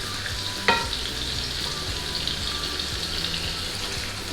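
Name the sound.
meat mixture and vegetables frying in a pan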